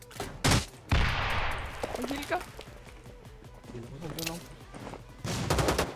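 Gunfire in the shooter game Rules of Survival crackles in several short bursts and volleys, loud at moments, while players talk over it.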